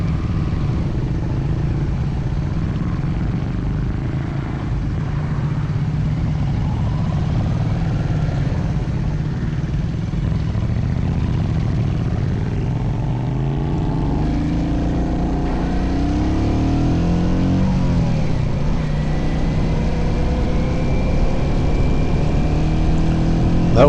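A Royal Enfield Continental GT motorcycle passes during a club rideout, its engine note rising and falling under steady wind and road rumble from a following bike.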